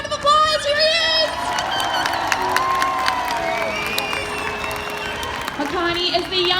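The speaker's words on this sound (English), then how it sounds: "Everyone give him a round of applause." Crowd noise rises at a SeaWorld orca show as the orca Makani appears, with cheering, shouts and scattered clapping from the audience over a steady din, while voices carry through the stands.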